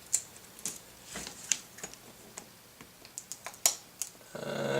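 Scissors snip and scrape at a cardboard box holding a BenQ Joybee GP2 projector, giving a series of faint, irregular sharp clicks and cuts close by, ending in a louder rustle.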